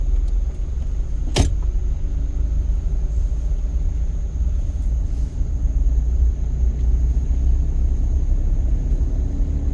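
A manual car's engine rumbles steadily and revs as the clutch is slowly let up, with a brief sharp click near the start and no talk.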